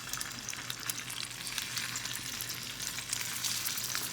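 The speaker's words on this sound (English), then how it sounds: "So you want to hear that sizzle." Scallops sear in a hot steel pan, giving a steady, dense crackling sizzle that stays even and moderately loud throughout, with no voices over it.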